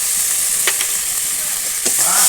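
A paste of ground onion, ginger and cumin fries loudly in a pan with a little water, a bright close sizzle broken by a few sharp scrapes of a spatula, with no talking.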